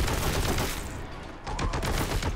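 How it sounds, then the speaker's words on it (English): Dense, busy gunfire from the Warhammer 40K: Boltgun video game, a continuous barrage of overlapping shots that dips briefly in the middle before swelling back up, loud and close throughout. "Who's shooting me?"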